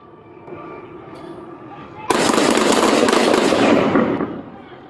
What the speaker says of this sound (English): Shots fired from my partners.